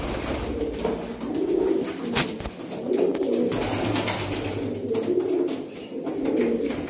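Young black high-flying pigeons coo in a low, throaty rhythm, repeated bursts rising and falling close by over steady background noise, with no talking.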